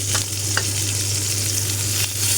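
Nigella seeds tempering in hot oil for a Bengali til potol dish, a loud continuous sizzle and crackle close up, with a few sharper pops rising above the steady frying hiss.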